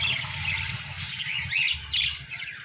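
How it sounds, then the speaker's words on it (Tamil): Lovebirds, adult pairs caged in a pet shop, keep up a dense, busy chatter of high chirps and tweets that runs steadily throughout, with low shop noise rumbling underneath. "அதேமாதிரி லவ் பேர்ட்ஸ் அடல்ட்டு பேர்"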